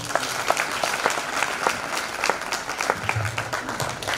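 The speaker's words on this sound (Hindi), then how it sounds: "एक बार जोरदार तालियां सबके लिए, मंत्री जी के लिए एक बार जोरदार तालियां।" An audience at a farmers' organic-farming awareness event applauds for the minister and guests, giving dense, continuous clapping at a strong, even level throughout.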